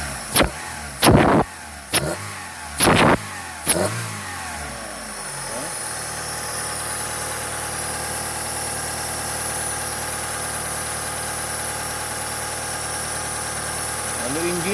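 A Perodua Kembara engine, its oil contaminated with water, opens with a few sharp knocks, then settles into a steady, even idle hum that runs on loud and close.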